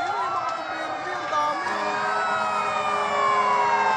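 Several fire truck sirens wail together with overlapping rising and falling tones, loud and steady, while a crowd murmurs underneath.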